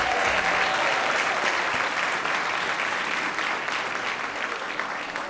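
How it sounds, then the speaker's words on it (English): Sustained applause from an audience at an awards ceremony honoring educational support personnel, steady and dense clapping throughout with a slight easing toward the end, no voices over it. "Another round of applause for our second group of ESPYs"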